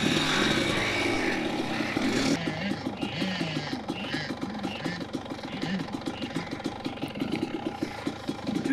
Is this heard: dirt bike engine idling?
yes